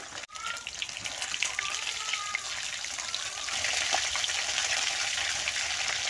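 Pomfret fish frying in hot oil in a pan, giving a steady, close crackling sizzle that runs unbroken throughout and grows slightly louder toward the end, with no talking.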